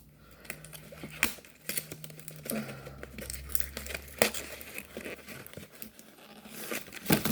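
Books wrapped in paper and tape are unwrapped close by, with quiet crinkling, tearing and rustling in uneven bursts and a few sharper rips.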